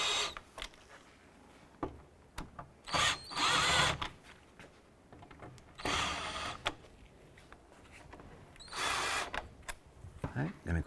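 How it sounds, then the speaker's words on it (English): A power drill drives four screws into the top of a 2011-2018 Volkswagen Jetta grille during bumper replacement, several short whirring bursts separated by pauses, close, with a person talking between them. "Now let's secure the 4 screws on the top of the grill."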